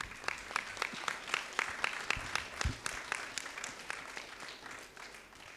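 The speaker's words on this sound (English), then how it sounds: "So one great round of applause for Kamli." An audience at a coaching institute's NEET topper event applauds a student with moderately loud clapping. The individual claps come through as a fairly regular pulse that fades toward the end.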